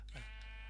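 Sheep bleating in the Minecraft video game, a single short bleat heard alone over a constant low hum.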